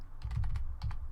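Quick bursts of close-up keyboard typing, clicky keystrokes in short irregular clusters with no talking.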